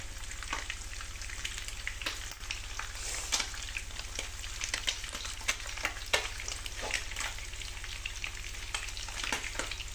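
Steady, dense sizzling and crackling of fish frying in hot oil, with scattered louder pops and spatters throughout, close up and continuous.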